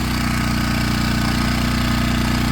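A Predator 1400 watt inverter generator runs at a steady, loud engine drone with an even pulsing rhythm throughout, close up and with no talking.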